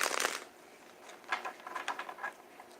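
Tarot cards being shuffled by hand, soft quick riffling bursts at the start and again in short patters later, close and quiet with no talking.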